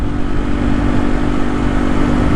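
A motorcycle being ridden on the road, its engine a loud, steady, close drone with rumbling wind noise throughout and no talk.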